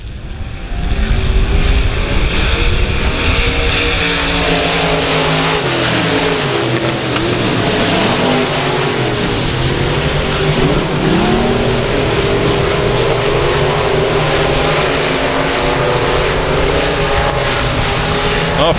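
Race cars roaring around South Texas Speedway, several engines droning and rising and falling in pitch as the pack passes side by side, loud and continuous with a commentator talking over it.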